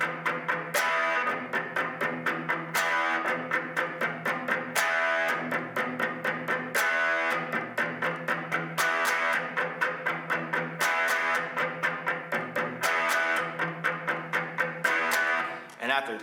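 An electric guitar strums a repeating chord progression for a song intro in a steady rhythm with regular accented strokes, played alone at moderate volume.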